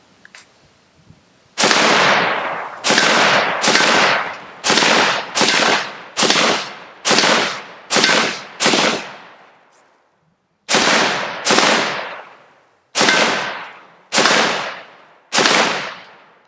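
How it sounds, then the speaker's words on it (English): Repeated rifle shots from a .308 Kel-Tec ring against steel targets downrange outdoors, with about twelve loud, sharp cracks in uneven bursts, each trailing off in a ringing decay, and a pause midway. "Downrange, we got some shoot steel targets. They're taking a beating from this 308"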